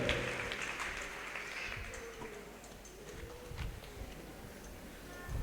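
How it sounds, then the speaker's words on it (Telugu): A congregation claps loudly together in praise during a church testimony service, a dense, sustained patter of many hands filling the room with scattered sharper claps throughout. "గట్టిగా చప్పట్లు కొడుతూ దేవుని మైపోరు."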